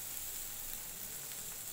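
Carrots sauté in a pan for egg fried rice, a brief, faint, even hiss of frying with no distinct stirring strokes or voices.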